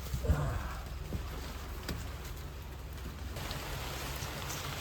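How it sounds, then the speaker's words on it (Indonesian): Rain falls steadily on an island campsite at Pulau Karimun Anak, a constant soft hiss with a few scattered drips and taps near the start, no talk over it. "Hujan guys."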